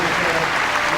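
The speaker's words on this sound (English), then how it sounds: "as she takes the applause" Steady applause from a show-jumping crowd greeting a young German rider's clear round, a continuous close wash of clapping with a commentator's voice running over it.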